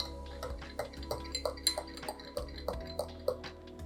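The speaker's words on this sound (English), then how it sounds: "I'm gonna go ahead and give it a stir" A spoon stirs an oat milk hazelnut cappuccino in a cup, giving a steady run of light, close metallic clinks against the sides, quick and rhythmic with no voices.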